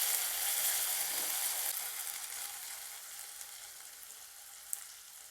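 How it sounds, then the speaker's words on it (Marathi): Tomato sautéing in a pan for a stuffed eggplant dish gives off a soft, continuous sizzle, faint and steady with no talking. "टोमॅटो देखील आपल्याला छान मऊ होईस्तोपर्यंत परतून घ्यायचा आहे."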